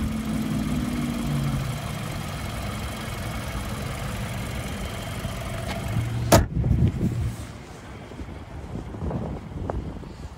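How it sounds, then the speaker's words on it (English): A 2015 BMW 528i's 2-liter turbocharged four-cylinder idles steadily with a low rumble and some wind buffeting, then a sharp click or thump partway through before the engine hum continues more quietly. "And there's a 2-liter turbocharged 4-cylinder."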